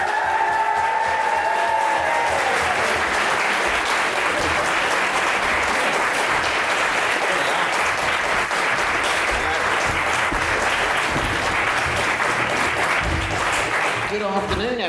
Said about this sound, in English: please give a massive Hogwarts welcome to Warwick and Annabelle Davis